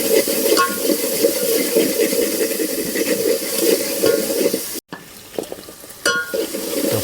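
Chopped onion and green chillies sizzle and fry in a pan, a dense steady hiss with occasional stirring scrapes and a brief cut partway through, no talking.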